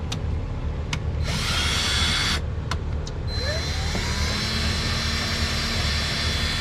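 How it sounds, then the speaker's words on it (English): Power drill slowly boring a pilot hole with a 1/8 inch bit, a loud steady whine with a few sharp clicks and shifting pitch as the bit bites, continuous throughout. "I have a 1/8 drill bit for my pilot hole"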